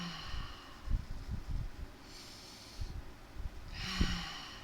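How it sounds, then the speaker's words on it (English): Slow, deliberate breaths during a guided breathing exercise in a class, with soft inhales and exhales and a few sharp nasal snorts, close and moderately loud, with no talking. "So let me start with our breathing."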